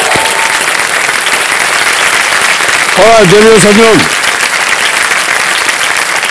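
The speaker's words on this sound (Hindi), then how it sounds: "तालियां बज जाए इनके लिए" The Kaun Banega Crorepati 14 studio audience applauds a contestant with loud, sustained clapping, while a voice speaks briefly over it partway through.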